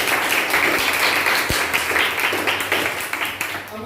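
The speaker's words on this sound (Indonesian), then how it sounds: "yuk aplaus dulu." Applause fills a classroom during a student presentation on monetary policy, a dense, steady patter of many hands clapping that stays strong throughout and fades slightly toward the end.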